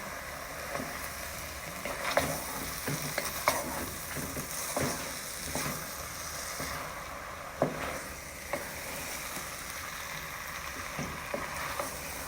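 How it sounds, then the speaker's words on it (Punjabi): Carrot and pea sabzi being stirred in a pan over a gas flame, a spatula scraping and clinking against the metal repeatedly over a continuous close-up sizzle, with no voices. "ਇਹਨਾਂ ਨੂੰ ਆਪਾਂ ਚੰਗੀ ਤਰ੍ਹਾਂ ਸਬਜ਼ੀ ਨੂੰ ਹਿਲਾ ਦਾਂਗੇ"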